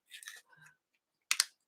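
Colouring pencils rummaged by hand, giving two short bursts of dry wooden clicking and clattering, close and fairly quiet, with a pause between them.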